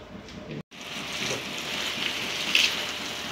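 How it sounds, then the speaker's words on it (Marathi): Water is sprayed onto garden plants at midday, a continuous close hiss and rush of water with a brief cut near the start and no talk. "हे बघा दुपारच्या वेळी असं झाडांवर पाणी मारायचं, म्हणजे मग झाडांना थोडा गारवा राहतो."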